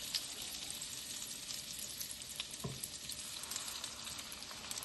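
Food bubbling in a pot on a home stove while mashed potatoes are being made, a steady soft sizzle and hiss with faint crackles, close but quiet, with no talking.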